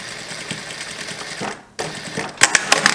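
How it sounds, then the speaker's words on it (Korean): A sewing machine stitches along a pocket seam on a denim jacket. The motor runs in short bursts and pauses, then several sharp mechanical clicks and taps come close up, with no talking. "여기 했던 선 그대로 미싱을 박아주시면 돼요."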